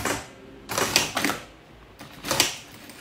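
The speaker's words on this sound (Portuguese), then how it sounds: "Na hora da curva, eu não paro de costurar, eu só diminuo" A sewing machine stitching fabric for a baby diaper holder runs in two bursts of rapid, close mechanical clatter separated by brief pauses.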